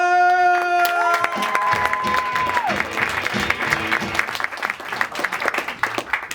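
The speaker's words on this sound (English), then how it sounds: "please give a huge round of applause for the hilarious Dan Wilbur" Applause and cheering from a comedy club audience after a stand-up set, a dense wash of clapping with shouts over fading music tones, fairly close and steady throughout.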